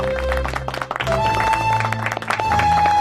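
Royal courtiers applaud as a young couple is revealed in the marriage bed, a dense burst of clapping that stays loud throughout and blends with sustained tonal music.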